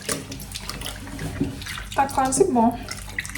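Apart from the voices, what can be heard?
water running while washing in the sink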